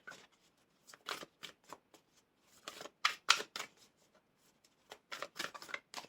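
Tarot cards are shuffled and drawn by hand at close range, giving quiet irregular bursts of riffling and flicking with short pauses between them, alone without talk.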